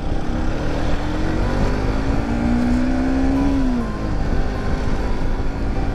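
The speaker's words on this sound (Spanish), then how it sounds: "Acá en primera sube la moto." Motorcycle in first gear climbing a hill in the Córdoba sierras, a steady loud engine drone with a rising whine that builds mid-way, continuous and close throughout, with no talking.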